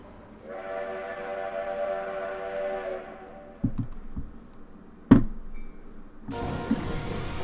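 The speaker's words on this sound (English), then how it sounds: "Nothing like being hit by a train to make a dragon go away, right?" In Dragon Quest 9, a train's drawn-out whistle sounds before heavy clanks and a sharp crashing impact as it strikes a dragon, followed by a loud rushing rumble.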